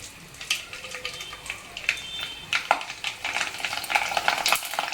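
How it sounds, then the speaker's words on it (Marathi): Kurdai, homemade rice or wheat fryums, sizzle and crackle in hot oil, with soft bubbling and scattered sharp pops and stirring sounds, fairly faint and close. "आता आपण आपली कुरडई तळून बघूया."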